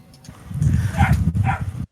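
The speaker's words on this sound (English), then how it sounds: "I'm so sorry for my dogs in the background." Dogs bark in the background of a home, giving a couple of muffled, low barks at medium distance. No one speaks over them.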